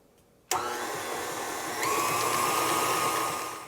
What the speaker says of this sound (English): we'll beat in all of our flavoring until smooth